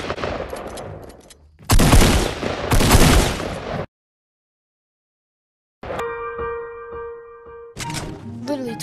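Tactical shotgun fire in a battle royale video game, loud bursts of gunshots in two clusters separated by a silent gap, followed by tonal game sound effects.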